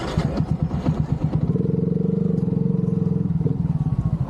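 Motorcycle engine idling steadily and close, rhythmic low putter with a brief rev, as the bike is readied for loading onto a ship at a port; a voice talks briefly over it at the start.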